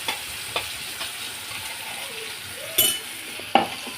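Ground coconut, tomato and garlic paste hitting a hot pan, with a soft steady sizzle, a few light clinks of a spoon against the vessel, and a louder splash of pouring partway through, close and without talk.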